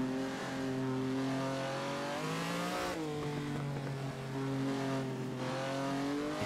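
A Ferrari 250 GTO engine in the Assetto Corsa racing game, on a snowy rally stage, drones with steady harmonic tones that rise and dip with the revs, loud and continuous throughout.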